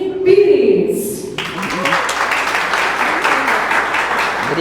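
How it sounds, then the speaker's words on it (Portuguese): An audience at a tourism lecture for mayors and secretaries in the Guamá region of Pará breaks into applause after a brief voice, with dense clapping that starts abruptly and continues steadily at close range. "Gostaria que vocês recebessem com muitos aplausos e muito carinho"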